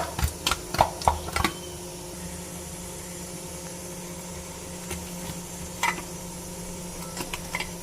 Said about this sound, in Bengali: নুন দিয়ে দিলাম ভালো করে, তারপরে দিয়ে দেবো হলুদ। এবার ভালো করে মাখিয়ে নেব।